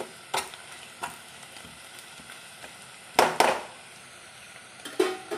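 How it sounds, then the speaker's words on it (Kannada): Whole spices with bay leaves frying in oil for mutton gravy, a low steady sizzle punctuated by a few sharp scrapes and knocks of a spoon against the pan, close and unaccompanied by talk. "ಇದನ್ನು ಸ್ವಲ್ಪ ಹೀಗೆ ಎಣ್ಣೆಯನ್ನು ಫ್ರೈ ಮಾಡಿ"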